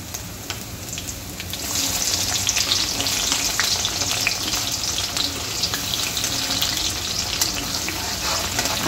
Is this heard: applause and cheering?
no